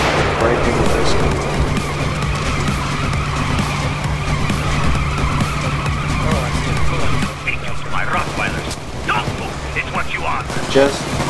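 Engine of a getaway car in the heist game Payday 2 rumbling steadily with a low hum, mixed with constant gunfire and action noise; players talk over it throughout.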